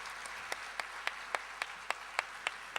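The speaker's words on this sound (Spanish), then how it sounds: "Vamos a saludar al padre y darle gracias con un fuerte aplauso." Applause at a Catholic educators' conference, a soft crowd patter with one louder, evenly spaced clap standing out about every quarter second, moderately quiet and without talk.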